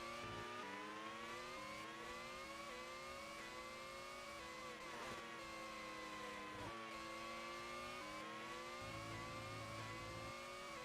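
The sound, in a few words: race car engines, Lotus cars racing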